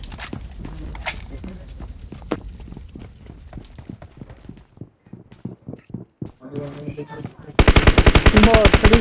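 Gunfire in the mobile battle-royale game PUBG Mobile: scattered single shots and footstep-like clatter, then a loud, sustained machine-gun burst in rapid rhythm near the end.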